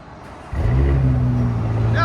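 A Porsche Cayenne S with a 2.9L twin-turbo V6 and straight-pipe exhaust fires up abruptly after a brief quiet moment, then settles into a loud, deep, steady idle rumble.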